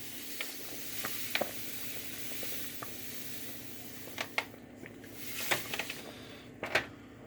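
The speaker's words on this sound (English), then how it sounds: "Now you got to make sure you stir it in real well." Sugar being stirred into mulberry puree for jam, a low bubbling sizzle with scattered light clicks and scrapes of the spoon, faint and close.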